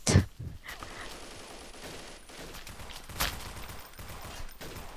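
Gunfire in the video game Blockade 3D: a sharp close shot at the start, then sparse, fainter shots and mechanical clicks over a continuous background hiss.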